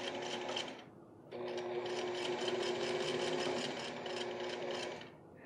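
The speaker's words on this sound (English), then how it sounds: "I'm sewing as close to the edge as possible because this is really just a stay" Sewing machine running a stay stitch close to the edge of a Cuban vacation shirt collar, a quiet continuous whirring hum in two stretches separated by a short pause, nearby but low in level.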